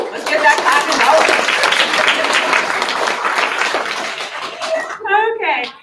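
An audience at a fiction writing awards night claps loudly and steadily for several seconds, the applause thinning out before a voice speaks near the end.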